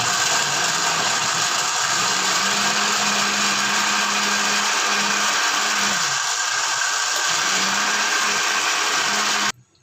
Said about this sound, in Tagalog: I-blender natin.